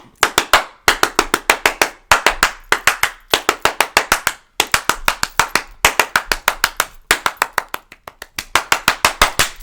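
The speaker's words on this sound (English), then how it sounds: "Just clap it up." Hands clapping in quick, sharp, close-up bursts of five to eight claps each, separated by brief pauses and repeating steadily for nearly ten seconds, with no talk.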